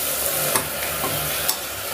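Chicken pieces being stirred into a frying tomato masala for Tamil chicken kulambu, giving a steady close sizzle with a couple of sharp scraping stirs, no voices.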